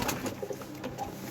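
Soft, repeated pigeon cooing, a low throaty warble close by with a few short calls in a row.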